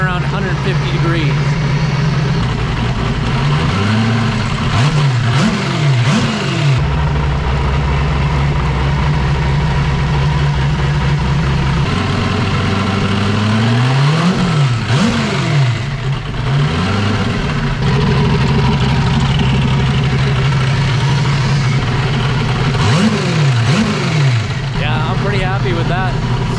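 LS V8 turbo engine in a jet ski hull idles with a deep, steady rumble and is repeatedly blipped in short revs that rise and fall, with people speaking nearby throughout.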